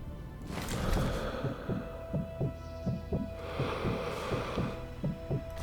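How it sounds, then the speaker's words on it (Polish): Player character's heartbeat after sprinting in the video game Sniper Elite V2, a steady, even thudding pulse of about ten beats over a low hum, with no talk. "To ogólnie jak sprintujesz, bo to jest twoje tętno."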